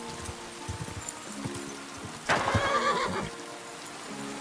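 A horse whinnies loudly midway through a rainy scene in the video game Kingdom Come: Deliverance II, with soft clip-clopping hooves before it and rain pattering throughout.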